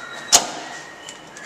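A building door at Stauffer B opens with a brief sharp clunk and a short rush of air, followed by faint room noise.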